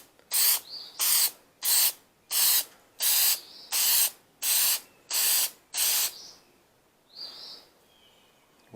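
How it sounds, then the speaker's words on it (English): Headlight coating sprays from an aerosol can onto a headlight on a 2008 GMC 2500HD, nine close, loud, evenly spaced hissing bursts, followed by two shorter, softer sprays and a quiet pause. "Get that out of the way so I don't spray it."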